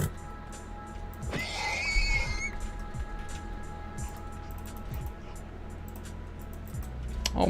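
A horse whinnies loudly in a video game, one shrill, quavering neigh near the start that fades out, followed by scattered thuds and clicks over steady background noise.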